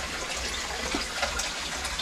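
Water flowing steadily at the Godavari river source on the Brahmagiri hills, a constant close rushing and splashing like a running tap, with no talk over it.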